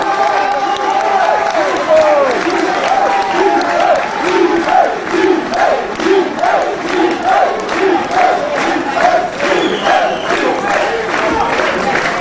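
A crowd at an outdoor evening show on a cold night claps and cheers loudly, with rhythmic chanted shouts rising and falling over the clapping throughout.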